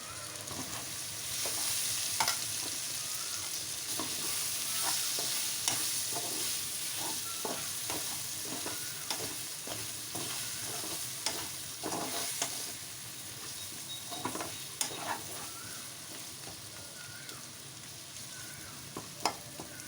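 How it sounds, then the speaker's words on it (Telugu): Capsicum and potato stir-frying with garam masala and coconut powder, a steady sizzle in oil with repeated scraping and stirring clinks from the pan, fairly quiet and without talk. "గరం మసాలా కొబ్బరి పొడి ఇవన్నీ వేసుకొని ఒకసారి కలుపుకోవాలి"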